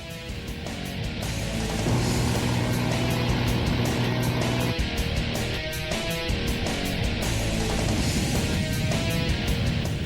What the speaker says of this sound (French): Le réglage est terminé et le véhicule effectue un deuxième essai.